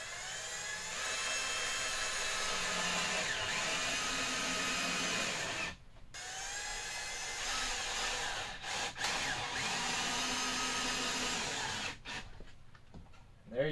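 A power drill driving screws into wood whines steadily at close range, running in long sustained bursts separated by brief pauses, with no talking.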